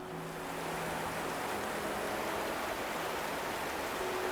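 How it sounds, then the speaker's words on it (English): The Broad River cascades over rocks in small waterfalls through a little town. A steady, broad rushing of water carries on at an even loudness throughout, with no talking. "The Broad River runs through this little town, and you can see it cascading like little waterfalls falling off the rocks"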